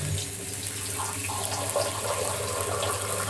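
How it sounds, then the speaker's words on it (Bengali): Water running steadily into a cooking pan while preparing a light weight-loss lunch, a continuous close splashing flow with no talking over it. "এবার এটাতে জল অ্যাড করে দেবো"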